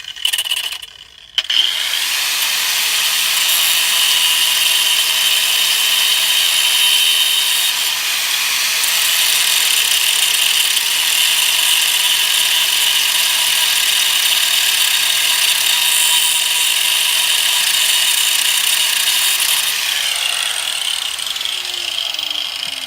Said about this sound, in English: If my grinder stays running.